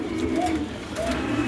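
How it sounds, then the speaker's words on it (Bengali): Large round-bodied pigeons of the domestic breed kept for sale, cooing in low, soft, repeated rolling calls close by, with no talk over them. "একদম টানাপার বিগ সাইজের কবুতর"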